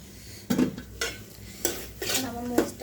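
Chili spice paste being stir-fried in a pan with dried fish and taro stems, a few distinct scraping and clanking spoon strokes against the pan over a faint sizzle, close and fairly quiet.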